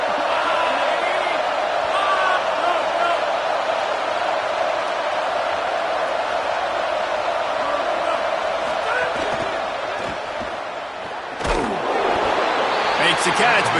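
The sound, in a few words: football stadium crowd noise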